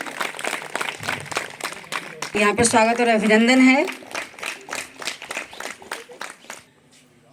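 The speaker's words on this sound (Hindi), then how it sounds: "तालियों से स्वागत करिए सब लोग, तालियों की गड़गड़ाहट होनी चाहिए।" Students at a school International Yoga Day event clap in a steady rhythm for a yoga instructor while someone speaks loudly over the beat and a voice briefly rises in a sustained tone.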